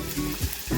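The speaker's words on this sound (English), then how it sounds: "Now we're going to add in our mustard seeds." Mustard seeds dropped into a hot pan with curry leaves, a brief close burst of sizzling and spluttering that swells and settles over under a second.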